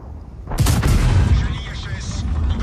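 In a tank video game, a heavy cannon shot from an IS-3 booms out and rumbles away, followed by a rattling impact and a fading tail, loud and close.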